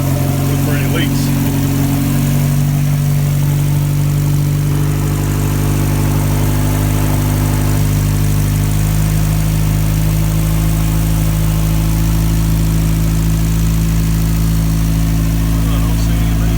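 Turbocharged D16 engine in a 1989 Acura Integra idling steadily after new injectors and ECU, a loud continuous close-up hum throughout with a voice speaking over it.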